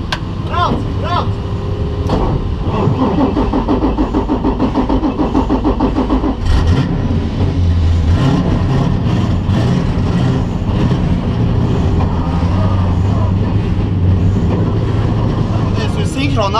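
A racing car pulls away from a pit stop during a race, its engine revving loud and close as it accelerates off, with excited talk from the pit crew running over the engine throughout.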